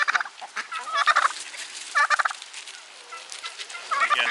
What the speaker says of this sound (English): the most food-motivated daggum turkey on the face of the earth